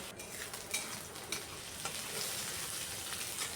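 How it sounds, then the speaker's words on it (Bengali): Chopped onion and a few garlic cloves being stirred and lightly fried in a pan for a spicy chicken gravy, a steady close sizzle broken by occasional soft scrapes of the spoon, with no voices. "বারবার নাড়িয়ে এইভাবে আমি একটু হালকা ভেজে নিচ্ছি"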